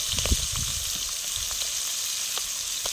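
Fresh river fish from the Sundarbans fry in hot oil on a stove, a dense steady sizzle with a few louder pops and crackles near the start, heard alone.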